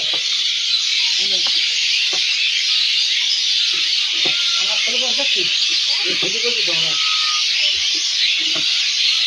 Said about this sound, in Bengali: আমি শুধু একটা ভিডিও করতেছি আপনাদের এই পাখির ডাক শোনানোর লেগে।